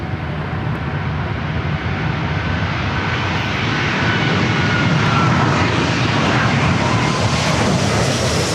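A jet airliner takes off from runway 24 left at LAX, its broad engine roar loud and steady throughout, swelling slightly as it passes, with no voices.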